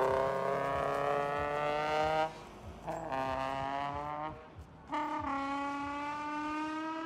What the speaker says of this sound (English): Its VQ six-cylinder engine makes about 330 horsepower and produces a sound that can only be described as, well, just listen.